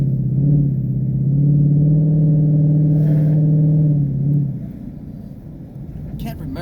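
A 2016 Ford Mustang GT on a snowy back road gives a steady, droning engine rumble for about four seconds that then eases off and drops lower, and a voice talks over it.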